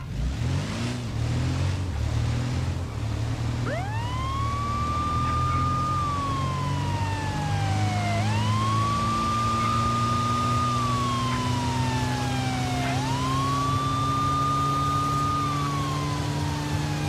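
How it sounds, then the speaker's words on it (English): Police siren on a vehicle in an Arma Reforger Halo mod: a wailing siren rising and falling in long sweeps over a steady rumbling engine, loud and continuous, with no talking. "it does have the police siren sound effects as well"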